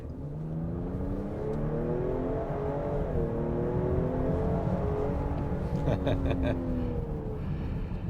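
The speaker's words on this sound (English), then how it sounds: "This is 3-liter twin turbocharged V6." A 2025 Lincoln Aviator's 3-liter twin-turbocharged V6 runs steadily, its engine tone gently rising and falling in a continuous hum, with a few light clicks partway through.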